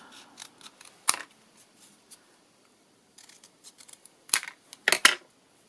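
Scissors snip through a patterned paper scrap decorated with napkin decoupage and stamping, a series of crisp, close cuts, some light and quick, a few sharper and louder, with quiet gaps between.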